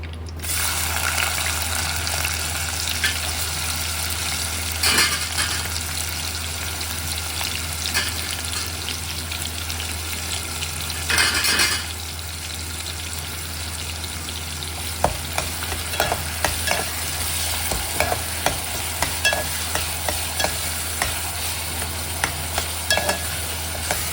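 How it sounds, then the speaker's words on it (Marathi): Onions hiss and fry in oil in a pan for a Nagpur saoji dal-onion curry, a steady loud sizzle with scraping stirs and occasional clinks of the spoon, close up and without voices. "आता आपण आता कांदे टाकूया"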